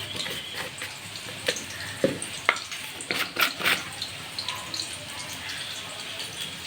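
Ginger, garlic, chili, tomato and onion sizzle in hot oil as spices go in and get stirred, a soft continuous frying hiss broken by scattered spoon clinks and scrapes against the pan.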